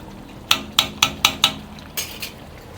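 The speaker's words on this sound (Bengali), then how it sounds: "এই যে আলুগুলো ঝোলে চলে গেল, বাংলা আলু দিয়ে চিকেনের ঝোল রেডি।" A ladle clangs against a metal pot of chicken curry gravy with potatoes at a roadside dhaba, five sharp evenly spaced knocks followed by two softer ones, close and loud with little else around.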